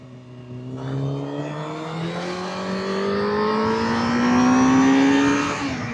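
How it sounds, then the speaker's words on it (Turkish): A Honda CBR600F sport motorcycle ridden fast, its engine pitch climbing steadily as it accelerates hard. The high, smooth whine is loud and close and keeps rising through the gear. "Motoru özlemişiz ya biraz o yüzden hızlı kullanıyoruz falan."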